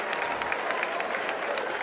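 A crowd at a bouldering climbing competition applauds and cheers, a dense, steady wash of clapping that continues unbroken at fairly close range.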